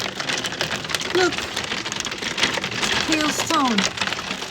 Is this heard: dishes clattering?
no